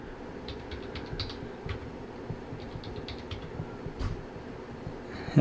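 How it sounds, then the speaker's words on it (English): A new password is typed on a Mac keyboard, giving soft, close, irregular key taps in short bursts over a quiet background, with no talking. "We just type in our new password."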